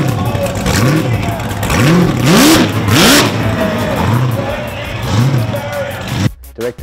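Car engine at a burnout event revving hard in repeated rising bursts, loud and close, with crowd noise and a voice beneath, cutting out abruptly near the end.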